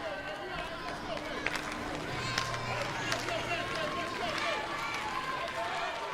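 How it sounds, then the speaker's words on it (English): A softball stadium crowd at an NCAA game cheers and roars continuously, with scattered clapping and shouts in a dense, steady wash of noise. "This crowd has come alive."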